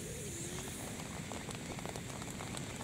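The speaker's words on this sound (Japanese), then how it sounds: "雨が降り出しましたね。" Rain begins falling at a campsite, a steady soft patter of drops hitting surfaces with a constant hiss, faint and even throughout, no voices.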